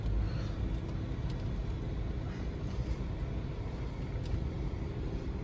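A vehicle backs up a trailer on the way to the dump, a steady, close, low engine rumble with road noise that holds evenly throughout.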